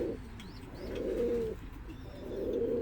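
Pigeons coo close by in low, rolling phrases, two or three in a row. Faint chirps sound above them and no one speaks.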